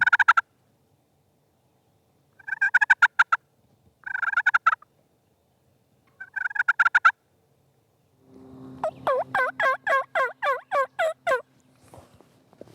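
Several bursts of turkey gobbling, rapid rattling calls repeated in quick succession, then a longer run of clear gobbles near by, with no talking.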